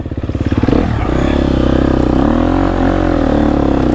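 A GasGas EX250F dirt bike engine ridden with heavy clutch work, loud and close, with a pulsing rev that rises and then holds a steady drone over rough ground.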